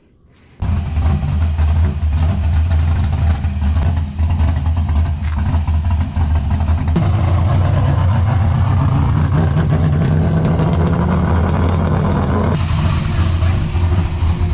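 A drift car engine roars loudly and continuously, rising in pitch and intensity partway through as the car accelerates, with no pauses.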